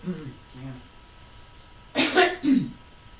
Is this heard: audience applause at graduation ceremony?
no